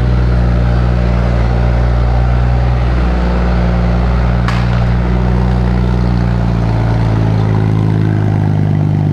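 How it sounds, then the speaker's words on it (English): A Toyota Supra engine running with no exhaust fitted idles and rumbles close by with a raw, unmuffled roar, its pitch shifting slightly partway through. "We are going to now start up the Supra without an exhaust."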